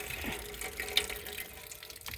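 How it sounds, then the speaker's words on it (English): Dirty water flushes out of a rainwater sediment filter, a close, steady splashing gush with small irregular drips and spatters. "See a lot of dirty water coming out."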